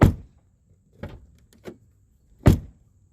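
Outside handle of a Chevy Suburban rear door being tried after replacement, a few sharp mechanical clicks and clunks of the latch, close and spaced apart, the last one loudest.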